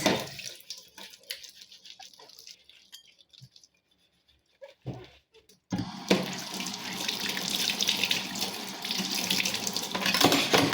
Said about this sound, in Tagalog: Panoorin niyo kung paano ako maghugas.